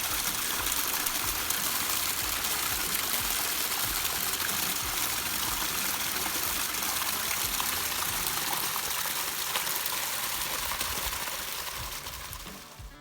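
Water gushes from the drainage system at the mouth of an old railway tunnel at Kelmarsh, a loud, steady, close roar of rushing flow that holds for the whole span and eases slightly at the very end.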